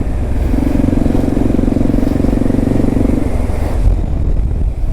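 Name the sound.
Marshal 150 motorcycle riding past on a city street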